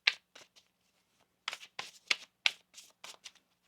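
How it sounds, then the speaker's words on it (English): A deck of tarot cards shuffled in quick bursts of crisp riffling and flapping, a run of short papery flutters close to the ear. "One more shuffle."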